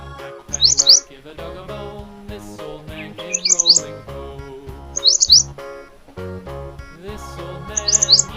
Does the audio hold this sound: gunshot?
no